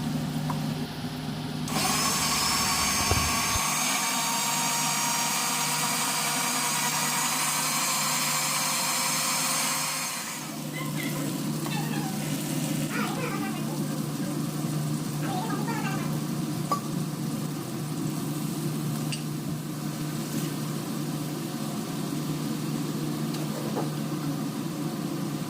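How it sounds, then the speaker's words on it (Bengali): Poppy seeds ground dry into a paste, a steady loud grinding drone that runs through the whole stretch, likely from an electric grinder. Its tone shifts partway through, with faint scattered sounds over it. "পোস্তটা আগে শুকনো বেটে নিচ্ছি জানেন"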